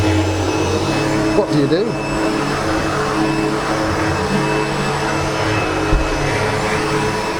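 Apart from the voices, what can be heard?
SEBO Automatic X7 Boost ePower vacuum cleaner running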